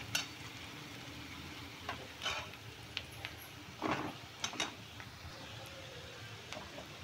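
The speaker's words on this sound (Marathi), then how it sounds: "मीठ टाकल्याने कांदा चांगला लवकर भाजतो।" Onion fries quietly in a pan with salt added, a soft steady sizzle punctuated by occasional ticks and scrapes of a spoon stirring, faint and close with no voices.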